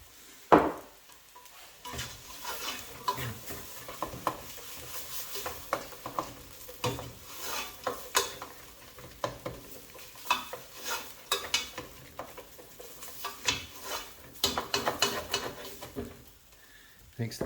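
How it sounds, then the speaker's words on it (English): Vegan mince and onions fry in a pan with dark soy sauce, giving a soft steady sizzle broken by the scrape and clink of stirring, fairly quiet throughout. "So first cook your mince and onions"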